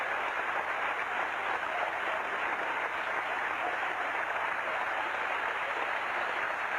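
Sustained, dense applause from an assembly crowd on its feet in a high school gymnasium, a standing ovation for a retiring teacher at a 1984 academic honors assembly, loud and unbroken throughout with no clear voices.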